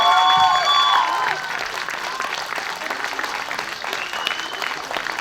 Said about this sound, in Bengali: একটা জোরে হাততালি প্লিজ